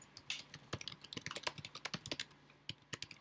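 Fast, close keyboard typing on a computer while writing a WordPress blog meta description, irregular bursts of clicks with a short pause near the end.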